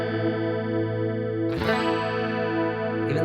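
Electric guitar run through a chorus effect set to slow rate and high depth: a sustained, shimmering chord with a gentle wobble, then a fresh strum near the middle that rings on, loud and alone.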